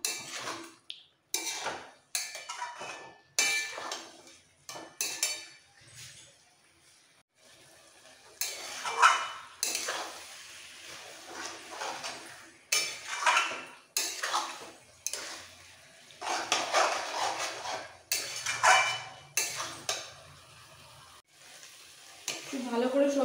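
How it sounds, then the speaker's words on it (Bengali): Carrots, beans, peas, cashews and raisins are stirred with spices in a pan, a spoon scraping and clattering in irregular bursts over a soft sizzle, close and fairly loud throughout. "সব মশলার সাথে সবজিগুলো এবার মিক্সড করে ফেলতে হবে।"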